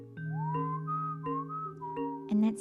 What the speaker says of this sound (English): And that's him whistling.